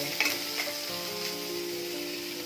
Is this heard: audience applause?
no